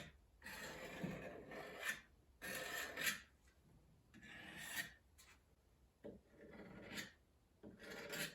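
Repeated rasping strokes of sandpaper rubbing the corners of a wooden hutch top, nearby and steady, in bursts of a second or two with short pauses between.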